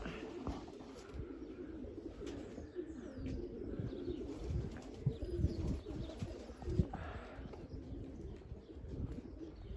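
Pied pigeons coo together in a shed, a low steady murmur of overlapping calls with a few chirps and brief wing flutters, close and continuous throughout.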